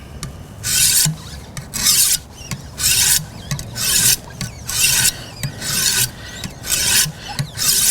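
A knife is honed on a Wicked Edge WE130 sharpener using 400/600 grit stones, giving close, even rasping strokes about once per second with short pauses between them and no voices.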